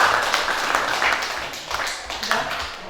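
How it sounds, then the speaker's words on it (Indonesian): Applause from a classroom audience after a group presentation, a dense continuous patter of many hands clapping with some voices mixed in. "silakan tepuk tangan untuk kelompok"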